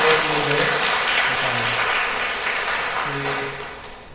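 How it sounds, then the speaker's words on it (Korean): A Catholic parish congregation at Mass applauds newcomers attending for the first time, a dense, steady wash of clapping that fills the room and fades toward the end, with faint voices beneath. "박수 한번 드릴게요."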